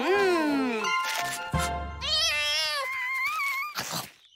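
Cartoon cat giving a string of loud, drawn-out meows and wailing yowls with sliding pitch, close up, broken by a brief clatter partway through.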